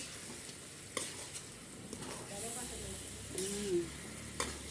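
Curry leaves fry in a pan with a faint, steady sizzle, broken by a few sharp clinks and stirring scrapes, with quiet speech in the background.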